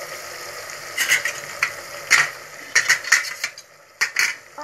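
Chapati stuffed with chutney goes into a pan of cooked tomato and garlic chutney, with irregular scraping, stirring clinks and soft sizzling against the metal pan.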